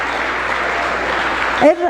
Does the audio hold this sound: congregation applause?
yes